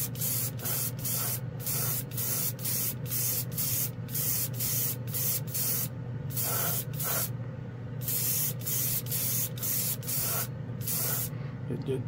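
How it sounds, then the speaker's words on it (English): An airbrush sprays Mr. Color GX paint in a rapid series of short, sharp hissing bursts over a steady low background hum, close and fairly quiet, with brief gaps between passes. "This airbrush is all right."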